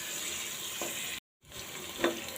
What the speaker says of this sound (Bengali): চিংড়ি মাছটা কষায় নিব